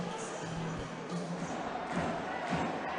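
Ice hockey arena crowd murmuring at a steady low level between plays, a broad continuous wash with faint scattered thumps, no clear cheering or talk standing out.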